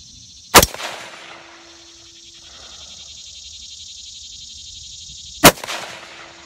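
Two loud, sharp rifle shots spaced several seconds apart, each followed by a faint metallic ring from a distant steel target plate, fired outdoors through a rifle fitted with a Vortex Strike Eagle 1-6 scope, with a quiet steady hum between.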